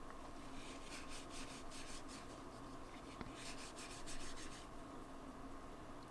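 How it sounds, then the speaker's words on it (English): Paintbrush scraped and brushed against a Dina Wakley scribble stick, a soft, close series of rapid rasping strokes in bursts, with brief pauses between them. "I'm just gonna scrape it or brush it against the stick here."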